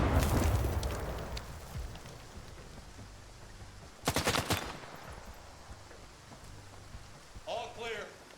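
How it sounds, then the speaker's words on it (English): Gunfire and grenade blasts in the shooter game S.T.A.L.K.E.R. 2: a rattling burst of automatic fire mid-clip amid distant booms and rumbling, with a voice speaking over it near the end. "they are perfectly throwing these grenades"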